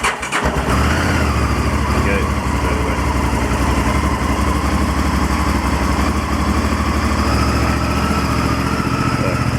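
A Honda VTR1000F Firestorm motorcycle starts on manual choke: a short crank catches almost at once, then the engine runs on as a loud, steady, close idle with no pauses.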